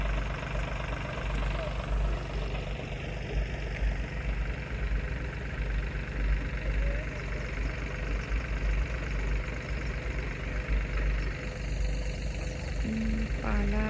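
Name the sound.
farm tractor engine idling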